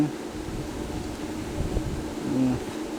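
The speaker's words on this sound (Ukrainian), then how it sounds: "Мені не подобається цей вітер." Low, steady wind rumbles and buffets against the microphone, swelling slightly near the end, with a faint hum in the background.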